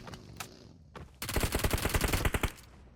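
Automatic gunfire in the mobile shooter PUBG Mobile: a single shot or two, then a loud, rapid burst of evenly spaced shots lasting over a second, up front with no talk over it.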